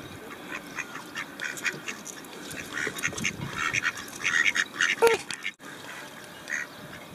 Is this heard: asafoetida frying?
no